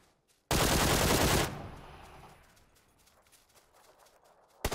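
Loud burst of automatic gunfire from a PUBG firefight on Xbox, a dense second-long volley followed by a decaying rumble and scattered faint clicks, with another shot starting at the very end.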